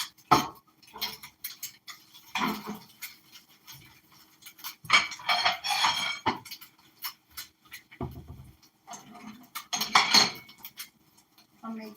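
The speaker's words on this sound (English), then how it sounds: "I'm serving my husband plate." Dishes and cutlery clink and clatter in irregular bursts as a plate is served at home, close and fairly crisp, with quiet gaps between the handling sounds and brief talk.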